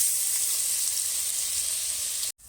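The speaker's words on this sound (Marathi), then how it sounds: "आलं लसूण पेस्ट चांगली तेलामध्ये परतवून घेऊ आपण." Ginger, garlic and green chilli paste sizzles steadily in a few spoonfuls of hot oil in a pot, a bright continuous hiss close by that cuts off abruptly near the end.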